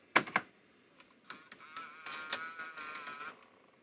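A Panasonic AJ-D215 DVCPRO camera mechanism unthreads its tape. Two sharp mechanical clicks come first, followed by a whirring, buzzing motor with small ticks, faint and close.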